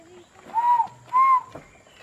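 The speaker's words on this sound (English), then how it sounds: "And we hear still the Argus pheasant calling." A great argus pheasant calls twice in Sabah, Borneo, with loud, pure whistled notes, the second more drawn out, in an otherwise quiet setting.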